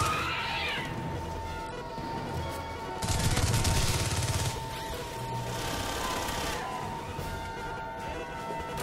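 Pistol shots in a video game firefight, a loud burst of gunfire near the middle over a busy, continuous game soundscape with other sounds throughout.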